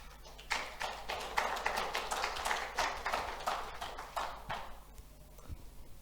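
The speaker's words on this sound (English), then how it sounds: "A round of applause." A small conference audience gives a faint round of sparse, uneven claps for a talk on legal pitfalls for indie developers, the claps fading out after a few seconds and leaving a quiet room.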